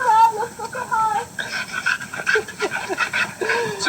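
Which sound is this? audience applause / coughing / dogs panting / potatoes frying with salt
dogs panting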